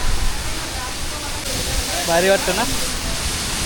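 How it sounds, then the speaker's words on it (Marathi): A waterfall at Raigad Fort in heavy monsoon rain makes a steady, broad rushing roar that runs throughout, with a person talking over it partway through. "हा बघा इकडे धबधबा आहे"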